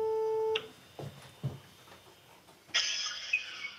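An outgoing phone call gives a short electronic tone, then quiet clicks and rustles before a bright, buzzing ring burst starts, close and clear, with no voices.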